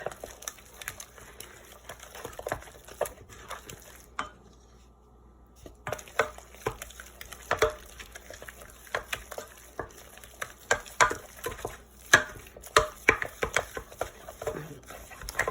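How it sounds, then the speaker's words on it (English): A wooden spoon stirs eggs one at a time into choux paste, producing irregular sticky slaps and scraping knocks against the pot in quick bursts, with a brief quiet pause partway through and no talk. "But what you want to do now is to add an egg one at a time and stir it until that egg is absorbed before adding the other ones."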